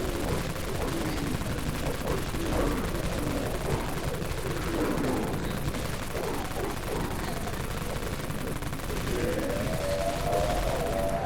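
Wraith cannon machine gun in the video game Dead Frontier, Deep Wastelands area, firing in a continuous dense barrage of rapid shots that holds steady and loud through the whole stretch.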